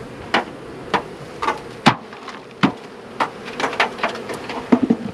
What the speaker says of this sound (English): So we're going to put those bees in there too.